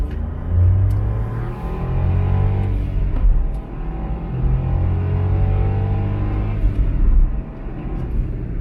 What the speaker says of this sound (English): We'll do a little acceleration test because it's not too bad.